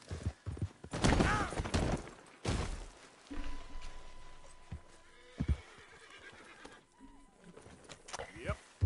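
A horse in the video game Red Dead Redemption 2 lets out a loud whinny, followed by hoof clops and thuds, with scattered voices talking over the scene.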